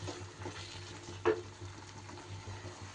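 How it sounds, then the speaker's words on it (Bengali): Bottle gourd curry is stirred in an uncovered pan, with a quiet low sizzle, soft scraping strokes and one brief sharper clink near the middle. "আরও একটু সময় ঢাকা খুলে এইভাবে নেড়ে চেড়ে আমি রান্নাটা করে নেব।"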